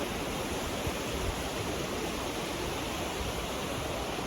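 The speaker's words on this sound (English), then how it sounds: "just going over the waterfall here in Bulgaria" Steady, dense rushing water roars without a break, a broad constant wash of a waterfall in Bulgaria heard up close.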